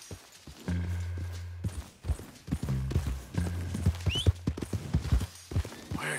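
Horse hooves clip-clop in a quick, uneven rhythm over a low hum in Red Dead Redemption 2, with soft clicks and a faint whinny-like squeal.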